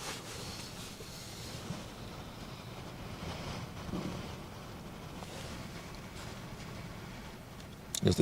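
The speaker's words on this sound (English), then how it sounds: "There's a strong wind, but it's not like ridiculous wind." Strong wind at the Westerschelde waterway, a steady faint rush and buffeting across the microphone with low rumble underneath, ending in a few louder gusts.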